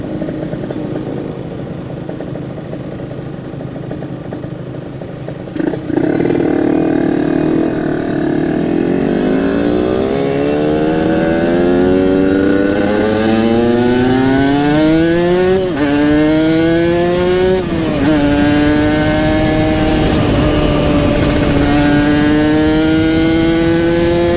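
Motorcycle engine fitted with a local aftermarket exhaust revs loudly and steadily, pitch sweeping up and down through repeated throttle blips after a quieter idle, close by with no talking.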